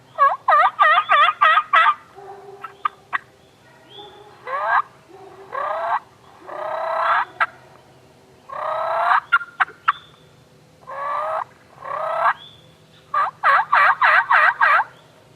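A hand-held Aggressor turkey call imitates a hen, close and loud, with runs of sharp rapid yelps alternating with slower, drawn-out raspy notes, in clustered bursts separated by brief pauses and no talk.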